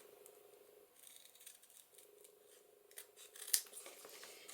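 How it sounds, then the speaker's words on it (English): Scissors snip the corners off paper for a journal, a few quiet close cuts with a sharp snip near the end over a faint background hum. "I'm going to cut the corners off,"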